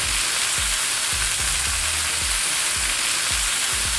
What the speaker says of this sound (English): we're just gonna get our skillet nice and hot. Add in a little bit of neutral oil. You just wanna cook it in one single layer.